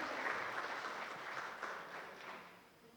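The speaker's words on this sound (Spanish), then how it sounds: "Un aplauso para Nere," A small group applauds together for a woman named Nere at a Spanish-language talk, a steady wash of clapping at moderate level that slowly fades toward the end.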